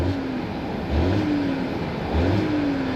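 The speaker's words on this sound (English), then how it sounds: "let's go ahead and see if we can hear this Volvo's 4-cylinder engine" A 2018 Volvo S60 T5 2.0L four-cylinder engine idles steadily up close, a low rumble with a couple of gentle revs rising and falling, no talking.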